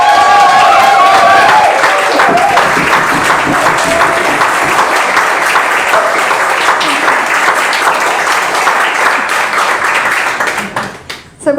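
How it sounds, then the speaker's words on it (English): An audience at a book launch claps loudly and continuously in a warm, dense burst of applause, with faint voices mixed in before it fades out near the end. "So I'm going to invite you to congratulate Carolyn with a big launchy round of applause."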